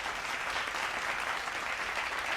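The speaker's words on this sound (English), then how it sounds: "You get a round of applause." A crowd applauds steadily, a dense wash of clapping that holds at an even level for a couple of seconds.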